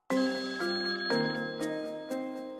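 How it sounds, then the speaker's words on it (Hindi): A telephone rings with loud, bell-like electronic tones struck in a steady repeating pattern, close and alone with no voices. "लेकिन सिर्फ एक घंटे बाद फोन बजा।"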